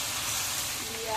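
Potatoes sizzle and hiss steadily in a hot pan as they are sautéed for aloo dum with shati fish, a soft, continuous frying sound without talk.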